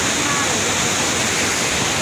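A flooded village river, swollen after the first rain, rushes right beside a house gate as a loud, constant roar of churning water.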